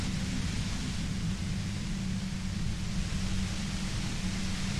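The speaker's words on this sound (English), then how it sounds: "You hear through the white noise." Steady hissing white noise effect from the Disco Elysium game, a dense unbroken static wash with a low rumbling hum beneath, constant in level throughout.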